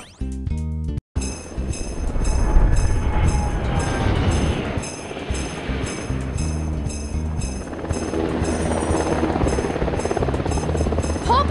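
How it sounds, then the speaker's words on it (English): Droning aircraft engine from the PAW Patrol Air Patroller in a video game, a loud, steady whir with a buzzing, rotor-like tone that runs continuously after a short burst of game chimes at the start. "PAW Patrol to the Air Patroller"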